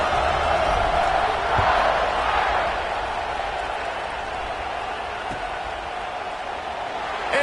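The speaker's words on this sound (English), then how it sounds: "this crowd is buzzing after that last score." A football stadium crowd hums and murmurs after a touchdown in a Notre Dame versus Oklahoma State game, a broad, distant wash of crowd noise that stays steady with faint scattered shouts and a couple of thuds.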